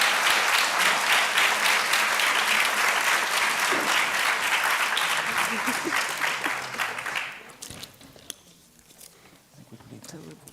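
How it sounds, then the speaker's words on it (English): Loud audience applause for panelists at a workshop holds steady for several seconds, then quickly fades away to a quiet room with a few stray sounds. "Please, a big round of applause for them."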